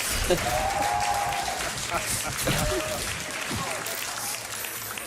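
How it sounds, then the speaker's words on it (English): A crowd at a Baldur's Gate 3 release panel applauding steadily throughout, dense continuous clapping with a few faint tonal sounds and voices mixed in. "I assume you're applauding that I'm still standing."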